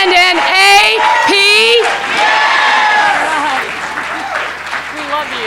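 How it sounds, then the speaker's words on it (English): Awards banquet audience applauding and cheering, with whoops and shouts over clapping while a voice speaks loudly over the crowd at the start. "Give her a big round of applause"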